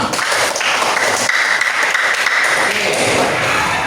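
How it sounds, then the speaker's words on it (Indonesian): A class of students applauds together in a classroom, a dense, steady burst of clapping that stays loud and close for the whole stretch, with no voices over it. "Tepuk tangan untuk kita semua."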